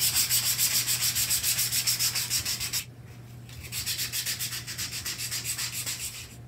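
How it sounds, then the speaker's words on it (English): Sandpaper scuffs the existing paint on a Jeep body before priming, with rapid, even back-and-forth rubbing strokes up close. The strokes pause briefly partway through, then resume at the same quick rhythm. "It's the first thing you do is just kind of scuff up"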